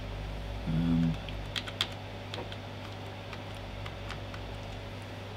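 Keys clack on a standard USB keyboard hooked through an adapter to a Commodore Amiga 2000, a short cluster of close taps followed by a few scattered presses over a steady electrical hum.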